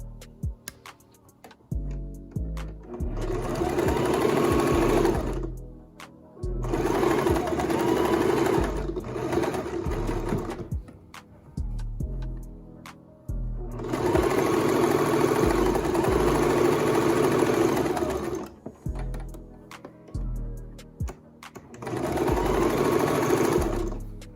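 A sewing machine stitches a cloth face mask in several loud, whirring bursts of steady motor hum and rapid needle ticking, broken by short quiet pauses between seams.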